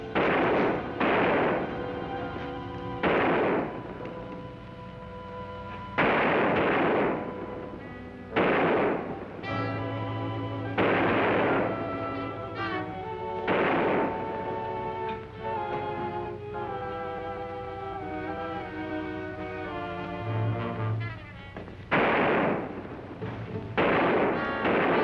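Gunshots ring out in a western TV episode, several sharp broadband cracks spaced irregularly across the scene over a bed of orchestral music with sustained tones, each shot loud and close.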